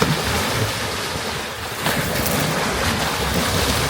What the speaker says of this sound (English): These are the waves of the big boats.